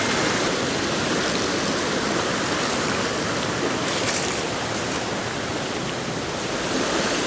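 A cold mountain brook in a Pennsylvania ravine rushing over rocks, a steady, full broadband roar of flowing water, close and even in level with no voices.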